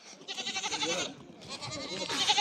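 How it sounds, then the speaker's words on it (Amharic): A goat bleats in a few wavering, nasal calls at moderate distance, two bursts separated by a short pause. "ግን አሁን ፍየል ይገባል ብለህ ነው?"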